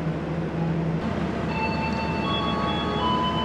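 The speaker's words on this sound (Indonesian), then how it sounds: "Datang dari arah selatan, kereta Batavia" A Batavia passenger train hauled by a CC203 diesel locomotive arrives at a station, its steady low rumble of rolling cars joined partway through by faint high metallic wheel squeal, close and continuous with no talk.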